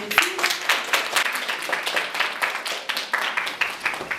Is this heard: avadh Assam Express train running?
no